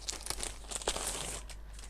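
Small stickers are peeled off a backing sheet, with a run of close crinkly, papery tearing and rustling and no talk.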